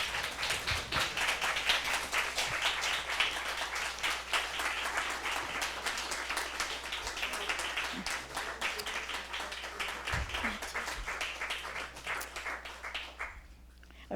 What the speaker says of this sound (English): let's welcome him in the midst of us with warm applause